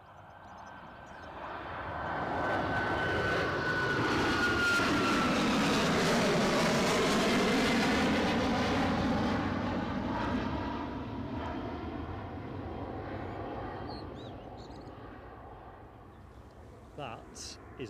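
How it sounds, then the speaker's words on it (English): A heavy passenger jet takes off at Newcastle Airport, its engine roar swelling from a distance to a loud, sustained rumble and then slowly fading as it climbs away. "That is a way heavier plane than the British Airways departure. That went up with a decent climb."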